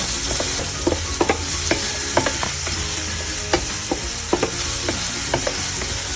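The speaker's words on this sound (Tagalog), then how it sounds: "We let the onion to be translucent, and then later we'll put the garlic or the ajo." Onion frying in a steel paella pan in Spain, a steady loud sizzle broken by frequent scraping stirs and clicks of a utensil against the pan.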